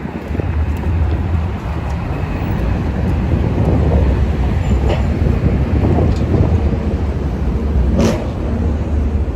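A train passes through New York City with a loud, sustained low rumble and rolling roar, steady throughout with a few sharp metallic squeals on top.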